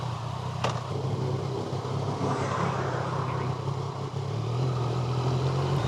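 A Yamaha Tracer 900 motorcycle rides through town streets in South and West Yorkshire. Its engine gives a steady, continuous drone mixed with road and wind noise.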